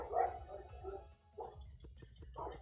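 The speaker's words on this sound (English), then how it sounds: "Ah, dogs are barking now." Dogs barking faintly in the distance, a few muffled barks over a low background hum, with no voices.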